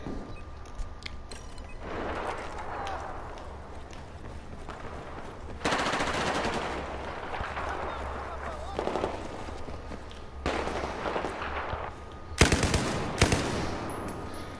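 Automatic gunfire from an online Battlefield 4 match on the Siege of Shanghai map, with rapid bursts that come and go over a steady background of game noise and grow louder toward the end.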